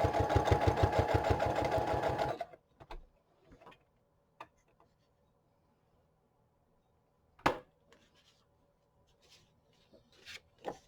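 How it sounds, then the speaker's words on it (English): A sewing machine stitches embellishments onto a farmhouse-style junk journal in a rapid, steady run of needle strokes for about two seconds, then stops, leaving quiet handling clicks and rustles of paper. "I'm going to just stitch these on here real quick"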